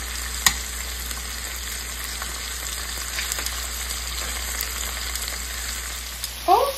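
Lamb chops frying in a pan with a steady close sizzle and crackle, a few sharper pops, and a brief stir or shuffle near the end.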